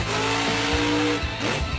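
The Grave Digger monster truck spins freestyle donuts, its engine roaring and revving in surges with tires scrubbing, loud and continuous over a short burst.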